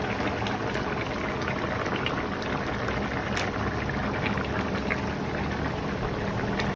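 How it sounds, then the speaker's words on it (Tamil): A pot of water at a rolling boil with four eggs added, a steady dense bubbling hiss that runs continuously and evenly throughout, fairly close and with no talk. "நல்லா கொதி வந்துடுச்சு"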